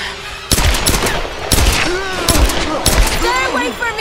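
Bursts of gunfire in the Tomb Raider video game crack out in four sharp volleys roughly a second apart, loud and close, with voices speaking between and over the shots.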